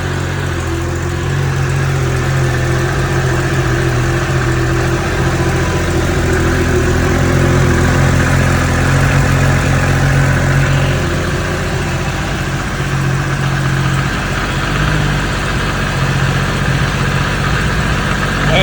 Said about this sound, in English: I can actually hear the engine run.